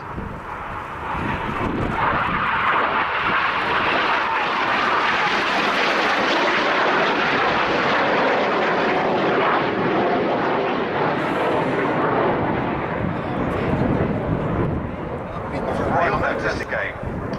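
Red Arrows jets of the Royal Air Force fly synchro double rolls at RIAT 2011, a loud sustained roar swelling and fading overhead while a commentator talks over it.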